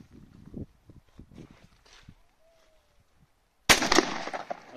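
A shotgun test shot fired with a 32 g No. 6 Sellier & Bellot cartridge at a target 36.5 m downrange: after a few seconds of quiet shuffling, a single sharp, loud blast erupts and rings out with a lingering tail.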